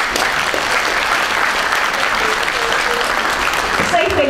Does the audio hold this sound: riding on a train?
no